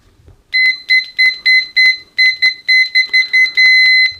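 Etekcity MSR-A1000 multimeter continuity beeper, latched, sounding as a run of loud, close, high-pitched beeps in a steady, slightly slow pulse, ending in one longer held tone.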